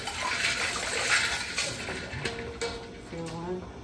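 Ice and cold water stirred in a pot or bowl for pasta salad, a steady watery swishing with light clinks of ice and utensil, loud and close.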